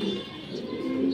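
Pigeons coo softly in a short low murmur outdoors after rain, a continuous close burble over light background noise.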